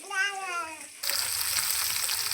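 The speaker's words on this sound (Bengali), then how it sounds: "এদিকে দেখো মাছ ভাজা হচ্ছে" Fish fries in a pan with a steady, close sizzle that rises sharply halfway through, preceded by a cat's meow.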